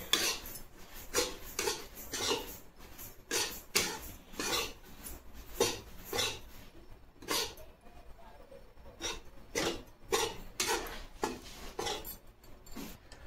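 Gram flour dry-roasting in a pan for besan laddu under a spoon that stirs and scrapes in quick, regular strokes, close and fairly quiet, with a brief pause midway.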